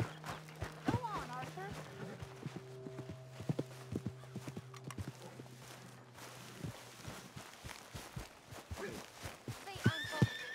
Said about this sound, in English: you couldn't help me get my other horse back from over there